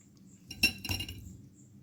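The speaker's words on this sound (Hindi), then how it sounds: "अब हम इसमें बॉइल्ड मटन ऐड करेंगे" Boiled mutton going into a pan of spiced masala, with two quick metallic clinks of a utensil against the pan over a low, quiet background.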